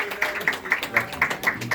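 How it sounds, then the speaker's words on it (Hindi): A group claps together at a house dedication ceremony, keeping a steady, even rhythm of about seven sharp claps, fairly close, with no talking. "हम लोग ताली बजाएंगे सब कोई"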